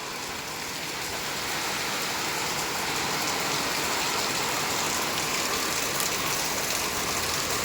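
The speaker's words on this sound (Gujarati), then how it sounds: "તો જો મિત્રો પવન સાથે વરસાદ" Heavy, steady rain pours down with a broad hiss and roar, gusts of wind blending into the wash of sound, no voices.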